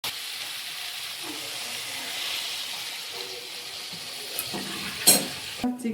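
Spiced masala frying in a pan for a prawn and jackfruit curry gives a soft, steady sizzle and hiss, with a few sharp pops and clatters near the end as water goes in.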